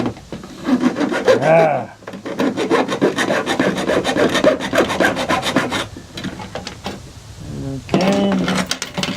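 A metal file rasps across crampon points to sharpen them, making fast rhythmic back-and-forth strokes that are close and loud. There are a few brief pauses, and a voice makes a short utterance.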